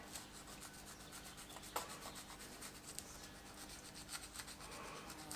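Carbon deposits are scraped out of a piston's ring grooves from a Peugeot 307 HDi engine, making a continuous fine scratching and rubbing with a few sharper clicks, close and fairly quiet.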